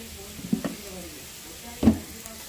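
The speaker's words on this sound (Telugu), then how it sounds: "1 స్పూన్ కారం వేసుకున్నాం. ఇంకా తిప్పుకుందాం." Meat frying in a pan with chili powder is stirred, giving two short scraping stirs over a soft, steady sizzle close by.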